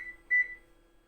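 A single short electronic beep from an oven control panel while preheat is set, a clear steady tone lasting a fraction of a second over a faint background hum.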